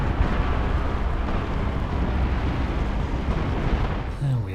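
A building collapses under an explosion in Destroy All Humans! Path of the Furon on PS3, a loud dense rumbling roar that holds throughout, with a tonal blip right at the end.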